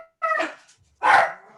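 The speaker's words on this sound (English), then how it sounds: "You hear some barking dogs in the distance." Two short, sharp dog barks a moment apart, fairly close and clear against silence.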